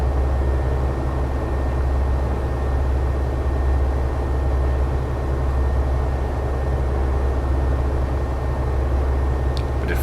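Steady, droning engine hum of a Piper Arrow III light aircraft in Flight Sim World, running at slightly reduced throttle; a constant low rumble with no change across ten seconds, no voices.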